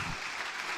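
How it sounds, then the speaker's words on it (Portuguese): Audience in a Portuguese-language business talk breaks into applause, a dense, steady wash of clapping, brief and fairly loud. "Senhoras e senhores, uma salva de palmas."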